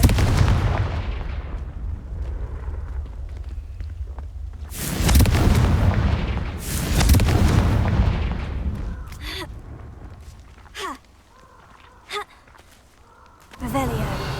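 Confringo fire spells from the Hogwarts Legacy video game burst in two loud, booming blasts a couple of seconds apart, then sharper cracks follow over a rumbling game backdrop with a voice present.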